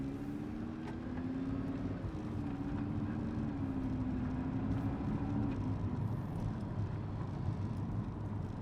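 An Audi R8 cruises slowly in comfort mode at about 18 mph, giving a steady, low engine drone and rolling road noise from inside the car, with a faint rising and falling hum and no talking.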